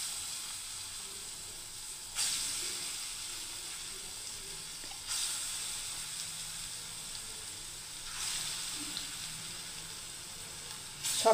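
Mung dal kofta balls fry in hot oil, a soft, steady sizzle and hiss that swells in brief surges every few seconds as more balls go in.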